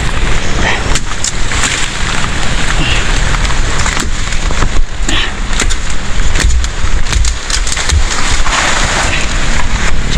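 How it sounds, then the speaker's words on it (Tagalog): Heavy rain from a typhoon falls steadily outdoors, a loud, dense wash of noise that continues unbroken, with some wind-like gusts and brief clatters mixed in. "Malakas na yung ulan"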